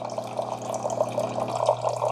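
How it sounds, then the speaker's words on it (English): Water and vinegar solution trickling and dripping steadily from a Farberware Dual Brew 12-cup coffee maker running a vinegar descaling cycle, a close, continuous soft dribble with faint splashes and a low appliance hum beneath. "So I'm starting to get some water come out."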